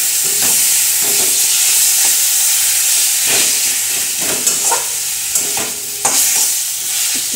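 Tomato paste stirred into fried onions in a hot pan hisses and sizzles continuously, with scraping spoon strokes and soft knocks against the pan repeating close by.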